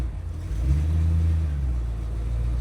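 A 1948 Plymouth street rod engine runs at a smooth, steady idle, a close low rumble with a slight swell in the middle and no talk.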